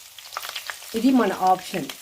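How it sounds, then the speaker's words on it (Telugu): Garlic frying lightly in a pan for a savory sago, peanut and cornflake snack gives a soft, close sizzle, with a short spoken phrase over it midway. "ఎల్లిపాయ చాలా లైట్గా ఫ్రై చేయాలి, ఎక్కువ అస్సలు ఫ్రై చేయొద్దు."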